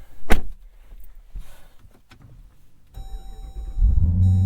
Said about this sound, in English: Ah, yes, the whole vehicle shakes to life